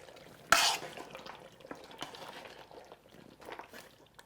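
Black pepper being stirred into a pot of Lao ragu: a sharp clatter of utensil on pot, then soft scraping and wet stirring sounds that continue quietly at close range.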